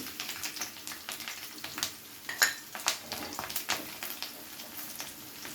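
Ginger and garlic are added to a pan of hot oil with dried red chillies while cooking an egg curry, giving a quiet, steady sizzle broken by light scrapes and clicks from stirring.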